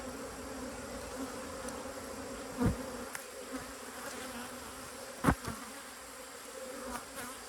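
At an opened beehive, bees hum in a steady, dense drone, with a few louder bees buzzing past close by now and then.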